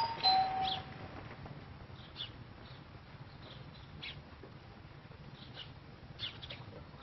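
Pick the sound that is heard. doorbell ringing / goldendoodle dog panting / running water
doorbell ringing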